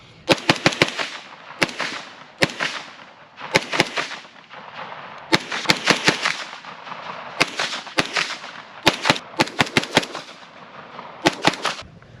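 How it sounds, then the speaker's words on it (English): A Century Arms AP5 submachine gun firing outdoors, loud close sharp shots in quick bursts and singles, with short pauses between strings and ringing echoes after each. "let's shoot that MP5 just, or excuse me, AP5 just a little bit more"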